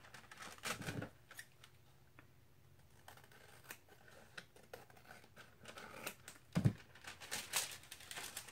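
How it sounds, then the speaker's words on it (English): Scissors snip through paper to cut the top off, a scattering of faint, crisp cuts and rustles at irregular intervals, close but quiet, with no talking. "So we're just going to cut the top off."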